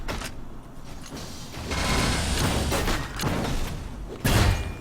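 Bolt weapons fire in the arena shooter Reflex, a series of sharp, loud bursts and mechanical clacks over a continuous game-noise background, with a heavy hit near the end.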